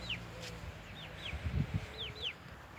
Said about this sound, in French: C'était nos deux poules et nos deux poulettes.